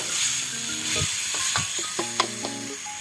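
Pork sizzling in a pan with a splash of water for stir-fried spinach with pork and egg, a steady frying hiss broken by a few stirring clicks, with faint tonal sounds in the background.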